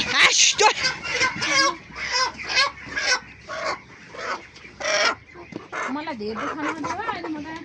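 A chicken clucks in short repeated bursts close by around a Nepali home, with a person talking alongside it throughout.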